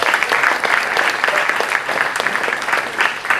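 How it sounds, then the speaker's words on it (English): An audience at a film festival conversation event breaks into dense, sustained applause, many hands clapping together in an even wash of sound for several seconds without a break. "A round of applause,"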